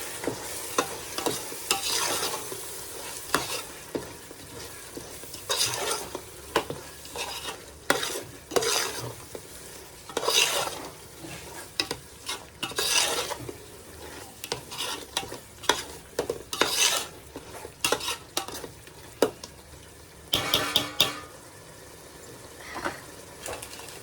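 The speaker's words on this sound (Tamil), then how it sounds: "இப்போ நல்லா மிக்ஸ் பண்ணிக்கலாம்." Ground biryani masala being mixed into a Lucknowi-style biryani in a pot, with irregular scraping and stirring strokes over a low sizzle, close up and without speech.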